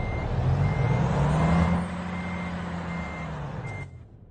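Truck reversing alarm in American Truck Simulator beeps steadily and loud over a low engine drone, with a hiss of air near the end.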